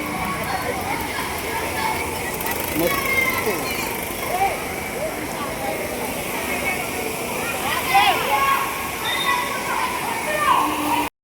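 Floodwater rushes along a rain-flooded road in Guntur, a steady broadband wash of flowing water close by, continuous for the whole stretch with scattered splashes and faint background voices.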